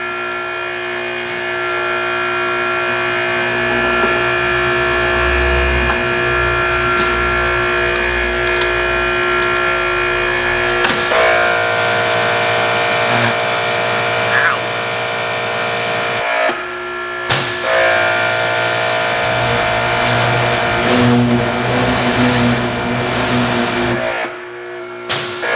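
Ryobi 2300 psi electric pressure washer running steadily with the power nozzle fitted, a loud continuous motor and spray drone with brief dips and restarts, no talking.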